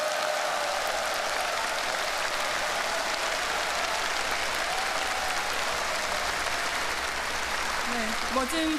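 An audience gives sustained, dense applause after a musical performance at a Korean Liberation Day event, steady and loud throughout nearly nine seconds before trailing off.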